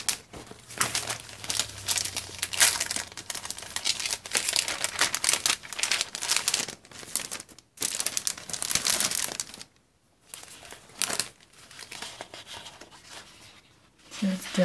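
Glitz paper being handled and crinkled while making a lace card journal from old Christmas and birthday cards, a close, busy rustling with crisp bursts and short pauses, a voice speaking over it.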